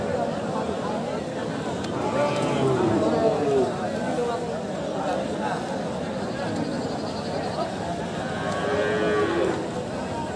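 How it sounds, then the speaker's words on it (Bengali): Cattle at a traditional Eid cattle market in Mirganj moo repeatedly, several drawn-out calls close by over a steady murmur of crowd chatter and voices. "বিশাল গরু থেকে শুরু করে মাঝারি এবং ছোট সব রকমের গরুই রয়েছে"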